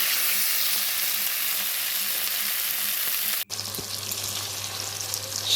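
Goat meat fries in a pan with a steady, close sizzle and hiss, broken by a brief drop before the frying resumes with stirring.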